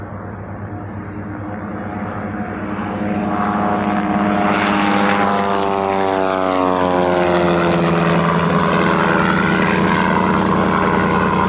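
A general aviation propeller airplane takes off from the runway, its engine droning loudly and swelling as it powers up, with a sweeping pitch shift as it accelerates and passes by, no voices.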